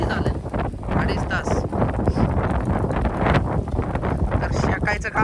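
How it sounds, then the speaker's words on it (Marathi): Strong wind gusting across a mountain peak, a loud continuous roar buffeting the microphone, with people talking through it. "हवा बघा किती सुटली"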